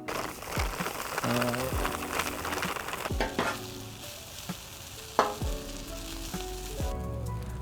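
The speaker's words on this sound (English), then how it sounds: "take some hash browns, make a little patty, and smash it down onto the flat top" A hash brown patty sizzles on a flat top grill, with steady frying hiss broken by scraping and tapping spatula hits, close up and loud.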